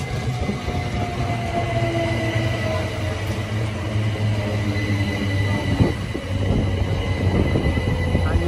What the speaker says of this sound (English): Arriving now is the 1320 Great Western Railway service from Didcot Parkway to London Paddington